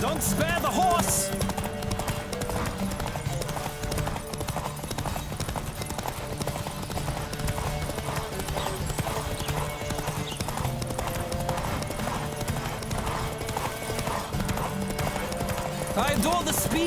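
Rapid rhythmic clip-clop of galloping horse hooves in The Witcher 3 runs steadily throughout, with game music and effects layered underneath.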